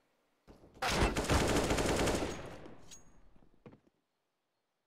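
Gunfire in Counter-Strike on the Inferno map during a competitive match: a loud burst of rapid shots lasting about two seconds, tailing off into a few scattered fainter pops, with no talk over it.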